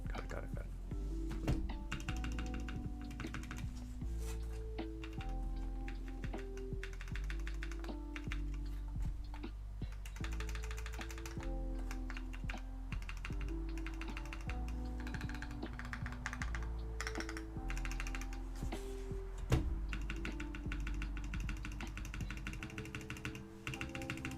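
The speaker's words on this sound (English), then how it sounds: "Box Pale Blues on a Razor Black Widow." A Razer BlackWidow keyboard fitted with Box Pale Blue switches is typed on steadily and close up, its clicky keystrokes running under music for the whole stretch.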